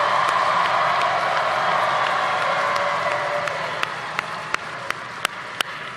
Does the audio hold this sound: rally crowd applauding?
yes